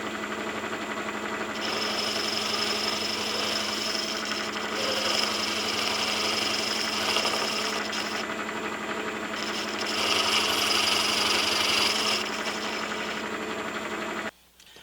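A drill bores a hole out to 13/16 inch in a cement mixer ring gear with sharp bits. It gives a steady, close mechanical whine and grind for about fourteen seconds and stops abruptly at the end.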